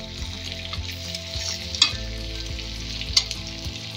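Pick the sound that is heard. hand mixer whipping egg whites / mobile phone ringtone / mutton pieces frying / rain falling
mutton pieces frying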